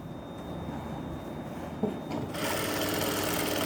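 A sewing machine stitches blouse fabric, a continuous close whir that grows louder and busier partway through. No voices are heard.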